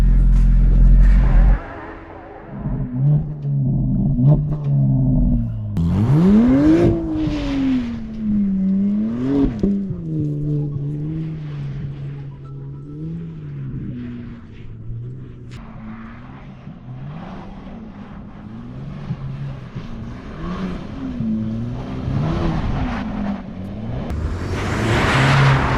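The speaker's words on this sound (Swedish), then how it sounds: "Nu ska vi hoppa in och sladda lite till." Engines of a Porsche Panamera and a Golf R drifting on a frozen lake, revving and whining up and down in pitch as the cars slide, loud and continuous with swelling and fading passes.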